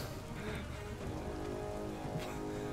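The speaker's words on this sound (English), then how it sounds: "In the middle of a downpour!" Steady, dense rain pours down continuously in the video game Biomutant, a broad hiss of drops striking surfaces with no voices.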